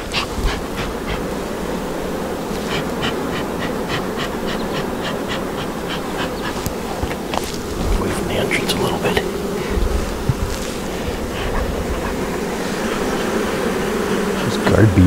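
Honeybees swarm and buzz around an opened hive during an inspection, a dense continuous drone close by with individual bees zipping past, plus light handling noises.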